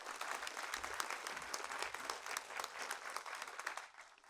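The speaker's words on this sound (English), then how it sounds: "So just clapping with the hands, please." A festival audience at a Brighton performance claps their hands together as the treble part of a group exercise, a fairly distant but dense patter of many hands that tails off near the end.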